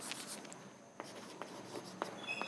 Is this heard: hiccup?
no